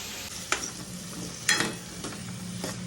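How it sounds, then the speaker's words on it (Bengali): Potato and chili frying in hot oil, a steady close sizzle broken by a few sharp spatula scrapes and stirring clacks, no voices. "আলু আর লঙ্কা দিলাম এখানে তেলের মধ্যে।"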